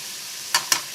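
Bacon frying in a heavy-bottomed frying pan, with a steady hiss of sizzling fat and two sharp crackling pops near the end.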